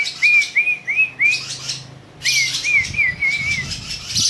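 A pet lovebird gives bright, clear chirps in quick repeated bursts, close and fairly loud, broken by a short pause midway, with faint rustling and soft background noise.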